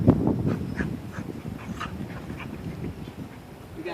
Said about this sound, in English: Puppy versus a pit bull.